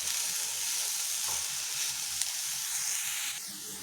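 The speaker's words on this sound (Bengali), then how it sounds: "এটা ঘিয়ের সাথে ভালো করে একটু ভেজে নিচ্ছি" Diced papaya frying gently in ghee over low heat for a sweet pulao, giving a steady, close, dense sizzle that runs throughout, with faint stirring scrapes underneath and no talking.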